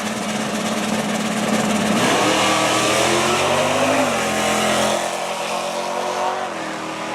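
A Barracuda drag race car at Motion Raceway accelerates down the strip with a loud, continuous engine roar whose pitch climbs and then drops, heard alone and close.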